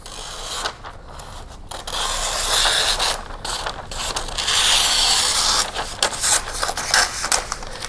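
Liner material for a tray is cut with a steady run of crisp scraping and snipping, close and fairly loud, with brief pauses between strokes and no talking.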